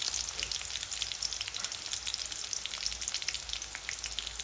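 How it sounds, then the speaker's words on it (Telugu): Onions frying in a pan over a low gas flame give a steady, moderate sizzle with a fine crackle and spatter running evenly throughout, heard alone. "గ్యాస్ అనేది సిమ్లో పెట్టుకొని ఆనియన్ ఫ్రై చేస్తూ ఉండాలి"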